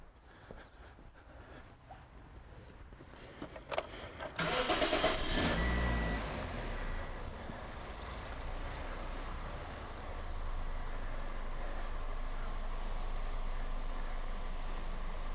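A car engine is cranked and starts during battery, starting and charging system testing: a brief whirr of the starter, a loud catch and rev, then the engine settles into a steady idle that rises slightly later on.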